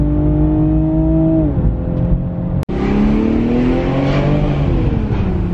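A Toyota Supra accelerates hard through the gears, engine note climbing in loud close revs, dropping at each shift and rising again, one brief sharp break midway, no voices over it.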